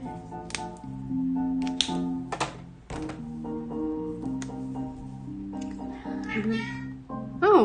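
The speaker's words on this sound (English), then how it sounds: "can you hear my cat?" A pet cat meows repeatedly nearby, several drawn-out tonal cries in a loose sequence, over light tapping and clicking sounds, with no talking during the calls.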